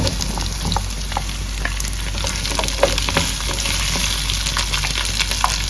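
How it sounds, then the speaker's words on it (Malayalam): Shallots frying in a pan while a mutton bone curry is being made, a steady loud sizzle with occasional crackles and stirring clicks throughout, no voices. "നമുക്ക് ചുവന്നുള്ളിയും കൂടി ഇട്ട് കൊടുക്കാം"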